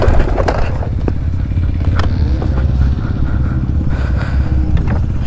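A Yamaha YZ dirt bike engine runs close by after starting, a loud, steady two-stroke drone with rattly mechanical clatter and a few faint sharp knocks, no talk over it.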